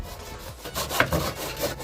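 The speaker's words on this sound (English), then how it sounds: "To make it easier, I get somebody to help me while I cut through the rest of the legs" A hand saw rasps back and forth through a wooden stool leg in short, close strokes, the rough scraping rising and falling with each pull.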